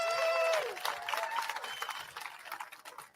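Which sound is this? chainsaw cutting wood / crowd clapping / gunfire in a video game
crowd clapping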